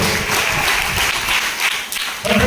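A church congregation at a Good Friday service claps hard and steadily, a dense, loud wash of applause lasting throughout.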